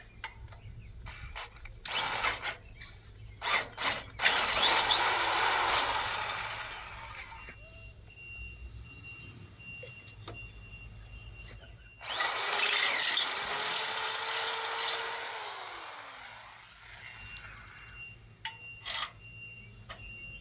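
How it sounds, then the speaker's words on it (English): A power drill drills out a bolt on a utility trailer tongue, whirring in two long bursts, with clicks and clatter between and a steady mechanical hum underneath. "so we're gonna drill this out"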